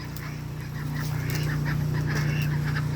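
Ducks calling from beside a frozen backyard duck pool on a cold winter morning, a steady chorus of honking quacks over a low constant hum, with no talk.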